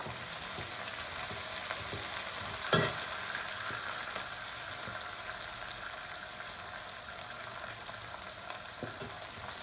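Mustard seeds, cumin, dried chilli, curry leaves and onion fry in hot oil, a soft, even sizzle with faint crackles and one brief louder clatter partway through.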